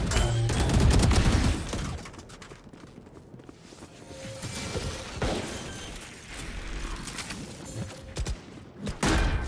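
Valorant gunfire crackles in loud rapid bursts, with several sharp shots spread across the stretch, near and dense, over game mechanism noise.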